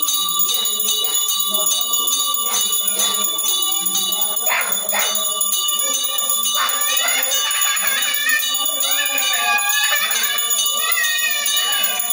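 A bell rings steadily in the background while children chatter and shout over it, with a constant high electronic whine throughout.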